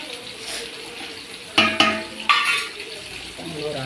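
Chicken gravy with coriander stirred and sizzling in a pan, a steady fry hiss broken by a few sharp clanks of a spoon against the pan around the middle, close and alone without talk.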